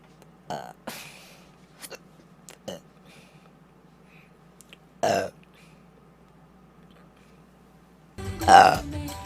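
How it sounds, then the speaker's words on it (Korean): A streamer lets out several short burps, the first ones quiet and brief, then a louder, longer burp near the end, close to the microphone in a quiet room with a faint background hum. "초반에 트림을 안 해가지고"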